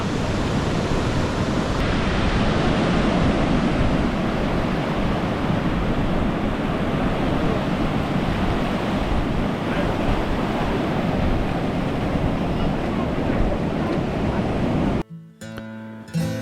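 Sea waves wash onto Vayari beach near Malvan on the Konkan coast in a continuous, loud surf roar with some wind, ending in a brief jumble of handling noise.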